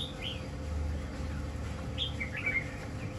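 A male Chinese hwamei songbird gives a few bright, separate chirps and short whistled phrases, close and clear over a low background hum with no talking.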